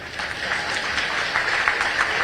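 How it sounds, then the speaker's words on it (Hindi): Audience applause at an MSME industry summit in a hall, a steady wash of clapping from a large crowd, moderately loud and continuous throughout. "ताली बजाएं तो जोर से बजाएं"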